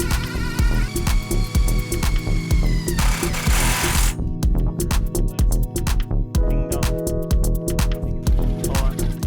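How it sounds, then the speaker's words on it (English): A power drill whirs in a continuous, throbbing grind, its motor pitch shifting as it bites into the material while drilling bolt holes to install a boat's Atlantic Towers arch. The drilling is loud and close. "we usually drill one hole completely, place the bolt in it, and then drill the next hole"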